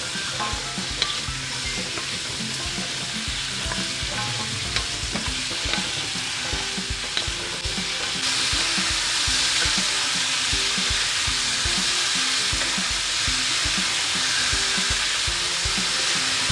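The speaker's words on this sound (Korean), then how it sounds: "예열된 공중팬에 기름을 붓고 물기를 제거한 감자를 넣은 뒤 코팅이 되도록 3분간 볶아주게 합니다" Drained potatoes fry in oil in a preheated pan with a continuous crackling sizzle and light stirring clicks, the frying swelling louder and denser halfway through.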